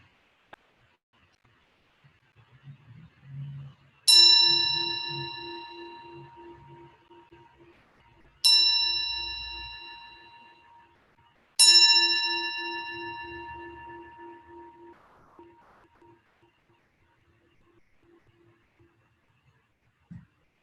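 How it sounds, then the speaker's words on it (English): A meditation bell is struck three times in a quiet room, each ring bright and sustained before fading slowly, with faint movement between strikes. "when you hear the sound of the bell, just noticing whatever arises in the mind or the body."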